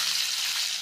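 Garlic, cumin, asafoetida and chilli sizzling in hot oil in a pan for mooli sabzi, a steady bright hiss held evenly and close throughout.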